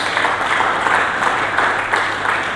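A church congregation applauds for Jesus during a sermon, giving a dense, steady roar of many hands clapping together that holds at an even level from start to finish.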